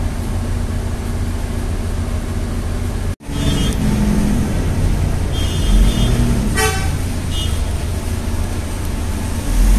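A city bus on route 4K from Pulau Gadung rolls through traffic, its engine a loud, close rumble. A sharp horn toot cuts in partway through, with a brief higher honk a few seconds later.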